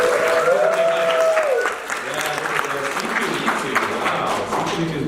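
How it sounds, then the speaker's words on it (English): Steady audience applause and clapping at a C2E2 2023 convention panel fills the space throughout, with a voice briefly heard over it at the start. "let's get another awesome applause over here."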